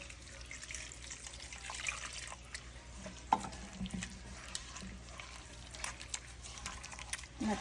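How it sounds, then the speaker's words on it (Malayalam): Coconut milk mixed with warm water is poured into a spiced mango curry mixture, giving a soft, close liquid trickle and splash with faint kitchen clinks over a quiet background. "അപ്പോൾ നമുക്കിത് ഈ കൂട്ടിലോട്ട് ഒഴിച്ചു കൊടുക്കാം കേട്ടോ."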